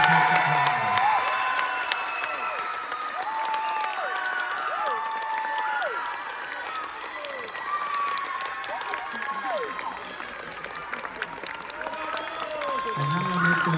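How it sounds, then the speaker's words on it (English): Audience applause and cheering after a school pops choir concert, with loud clapping mixed with shouting voices and crowd chatter throughout, while tonal voices and whistles rise and fall above the noise. "big round of applause for all of them"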